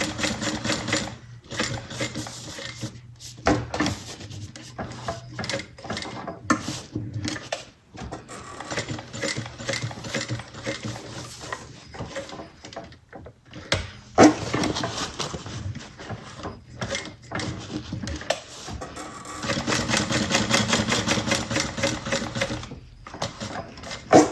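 A sewing machine stitches a Jasmine fabric bag in long, fast, steady runs with short stops between bursts, loud and close, the rattling needle mechanism dominating throughout.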